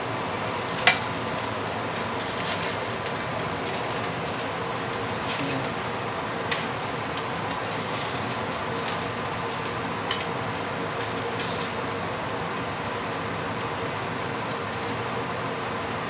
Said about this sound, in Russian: И вот мы их перевернули и дожариваем.